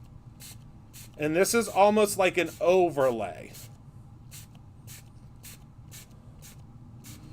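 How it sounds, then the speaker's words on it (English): A can of Ornament Gold spray paint gives a series of short, sharp hissing bursts at close range, with someone talking in between. "So we're going to spray it."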